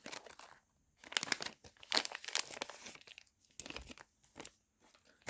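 Plastic packaging for an Infinite LE knife in M390 steel crinkles and rustles in several short bursts with quiet pauses between, close up and fairly soft.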